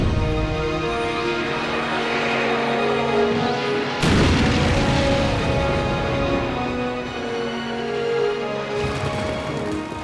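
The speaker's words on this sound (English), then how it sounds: "the Allied powers bombed Rome" Wartime bombing of Rome is rendered as a documentary sound effect, with deep rumbling booms and a sharp new blast partway through, all layered under a continuous tonal music bed.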